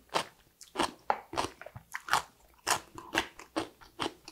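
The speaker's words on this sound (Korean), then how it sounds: "무가 아삭아삭하죠?" Crunchy dongchimi radish from a year-old Korean radish water kimchi being bitten and chewed, about a dozen crisp, close, loud crunches in a steady rhythm, with no talk.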